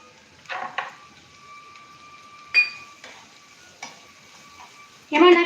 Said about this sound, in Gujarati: આપણું તેલ ગરમ થઈ જાય એટલે આપણે એક નાની ડુંગળી સુધારેલી છે,